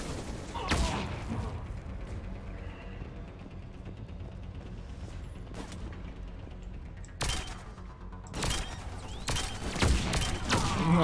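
Loud, sharp bursts of gunfire in Mass Effect 3 Legendary Edition over a constant low rumble, with scattered single shots early and a quicker string of shots near the end.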